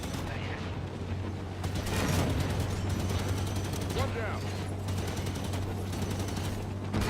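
Bursts of gunfire from an enemy aircraft during a Halo 5 legendary co-op campaign, dense crackling shots mixed with game noise and a steady hum, with players talking over it.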